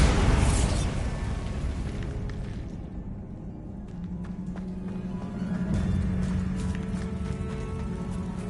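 A Bombarda blasting spell in Hogwarts Legacy bursts in a loud explosion at the start, then a rumbling, debris-filled tail fades into ambient game noise.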